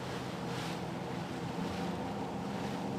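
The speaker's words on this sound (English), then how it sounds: "you can hear from the sound of the outboard motors of the support ribs around the side" Steady drone of outboard motors on support RIBs running alongside a fast-moving racing yacht at sea, blended with wind buffeting and water rush, continuous and moderately faint.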